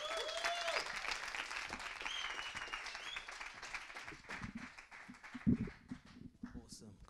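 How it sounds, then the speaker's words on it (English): A crowd at The Word Lounge gives a warm round of applause welcoming the performer Sufi Sage. The clapping is steady and full, with voices mixed in, and thins out near the end. "a warm, welcoming round of applause for Sufi Sage"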